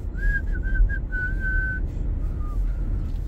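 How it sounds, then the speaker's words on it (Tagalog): Someone whistles a short, simple tune alone, a few quick notes and then a longer held one, over a low rumbling background. "pasipol-sipol ka lang."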